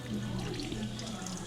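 Freshwater foot rinse running at a beach resort, a steady splashing stream of tap water close by, continuous for the whole moment with faint voices behind.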